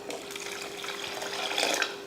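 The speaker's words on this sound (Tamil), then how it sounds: "இப்போ புளிப்பு காரெல்லாம் பார்த்துட்டு தண்ணி சேர்த்துடலாம்." Water pours into a pot of tamarind rasam during cooking, a steady splashing and gurgling stream that builds slightly toward the end, close up with no speech over it.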